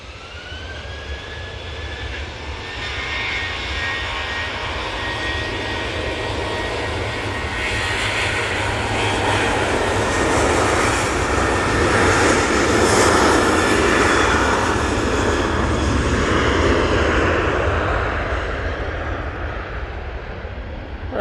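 An easyJet airliner from Geneva on short final into Manchester Airport, its jet engines making a steady, loud roar that swells toward the middle and holds throughout, with no talk over it.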